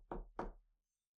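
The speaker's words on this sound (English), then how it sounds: "and then there's a knock on his door." Two firm knocks on a house door, close and loud, in quick succession with silence after.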